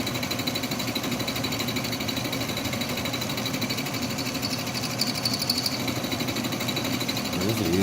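A lathe milling attachment runs steadily with a continuous mechanical rattle and chatter, close and loud throughout, deflecting under the cut.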